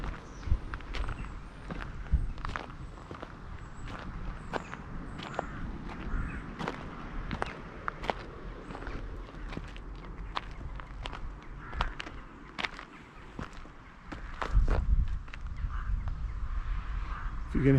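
Footsteps climbing modern steps around the Neolithic earthwork at Avebury, a steady run of crisp outdoor treads that pauses briefly near the end, with rooks cawing faintly in the background.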